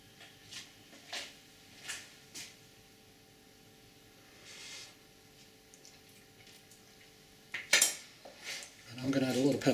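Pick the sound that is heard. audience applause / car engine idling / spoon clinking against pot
spoon clinking against pot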